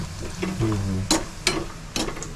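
Cashews, almonds and pistachios dry-roasting in a pan over a medium gas flame, with a few sharp scraping strokes of stirring over a low, steady background.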